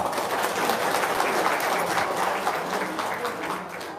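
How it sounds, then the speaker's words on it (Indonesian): Audience applause at a talk on paying off debt, a dense steady wash of many hands clapping that fills the whole stretch at moderate level. "Oke, sip, tepuk tangan dong."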